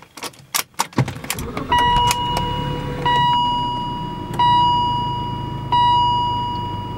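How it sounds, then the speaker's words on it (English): A BMW with an ABS precharge pump fault is started: a few sharp key clicks, then the engine cranks and settles into a low, steady idle while repeated electronic dashboard chimes ring out over it. No one speaks. "All we have to do now is start the car and see if the ABS unit has resolved"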